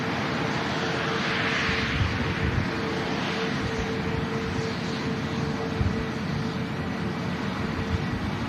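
An airliner taxis to its gate at Manchester Airport after an emergency arrival on runway 23 left. Its engines give a loud, steady, unbroken roar that fills the whole stretch.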